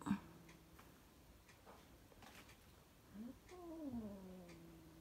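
A quiet kitten gives a couple of soft, short meows in a hushed room, with faint background ticking.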